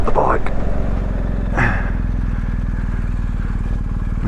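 A motorcycle decelerating from 40 mph under emergency braking, its engine note falling to a low, pulsing idle, loud and close, with brief wind buffeting near the start.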